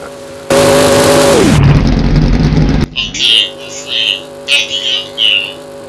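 A cartoon vehicle engine revs up as dirt tires switch on, a loud droning roar that drops in pitch into a gritty rumble, then climbs again. Cartoon voices talk over the engine.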